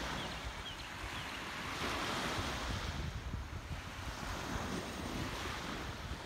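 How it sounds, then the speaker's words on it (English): Calm ocean waves off Lewes wash in a steady, broad hiss with gentle swells in loudness, heard alone outdoors with some wind buffeting the microphone. "I'm gonna be quiet for a little bit so you can hear the beautiful ocean"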